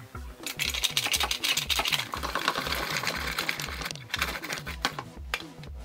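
A food processor shreds cauliflower into rice with a steady, fast mechanical whirr and rhythmic low chopping pulses, loud and continuous throughout with no talking.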